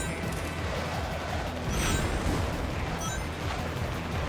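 Continuous rumbling explosions and blasts from the game Sonic the Hedgehog Project 06, dense and loud throughout, with a brief swell of brighter crackling near the middle.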